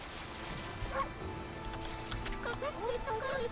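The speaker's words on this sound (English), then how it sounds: "if you press the interact button, which is F, when no one's around, you start barking" A wolf character in the video game Okami HD lets out a few short, high, yipping barks toward the end, over a soft, hissy game ambience.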